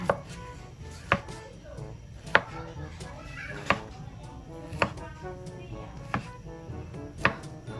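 Sharp, regular knife taps on a cutting board as a hotdog is sliced, about one cut per second, over a low background hum.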